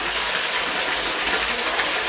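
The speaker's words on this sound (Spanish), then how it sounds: "Miren el caudal de agua" Water gushes hard and steadily into a large kitchen sink basin, a loud continuous rushing wash with no talk.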